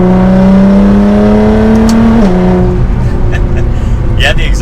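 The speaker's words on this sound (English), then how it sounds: "the exhaust tone is much different now that the car is actually well insulated" A Nissan R35 GT-R accelerating as heard from inside its sound-deadened cabin, a loud, steady droning exhaust note rising in pitch, dipping at a shift, then carrying on with a deeper hum, with voices mixed in near the end.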